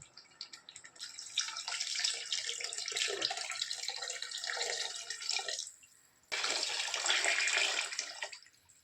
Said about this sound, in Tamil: இப்போ நான் தண்ணி சேர்த்துக்கிறேன்